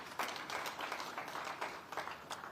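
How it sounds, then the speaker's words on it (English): A conference audience at ZEDCON 2024 gives faint, thin applause: a small scattering of distinct hand claps in an uneven rhythm, with no talk over them. "Please, a big round of applause."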